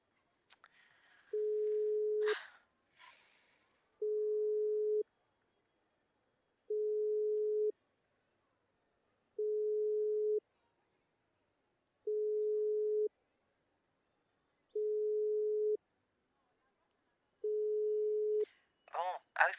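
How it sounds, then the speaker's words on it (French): A phone call ringback tone sounding in seven evenly spaced steady beeps with silent gaps between them, with brief bursts of voice at the start and end. "le bruit de la sonnerie"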